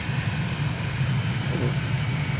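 A fixed-wing aircraft in Microsoft Flight Simulator drones along with a steady, loud, low engine hum as it throttles back on its landing approach, holding even with no voices.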